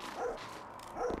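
A dog barks in the House Builder PC video game: two short, fairly loud barks, one near the start and one near the end, with no speech over them.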